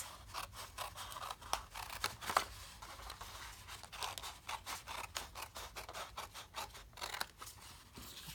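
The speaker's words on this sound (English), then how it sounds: "we're going to cut down to our score line and then all the way across." Scissors cut through paper along a score line for a craft gift bag, a long run of quick, crisp snips with a few short pauses, close and fairly quiet, with no voices.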